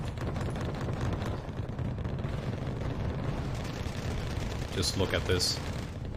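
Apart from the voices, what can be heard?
cluster bomb strike explosions from MiG-23s, Wargame: Red Dragon video game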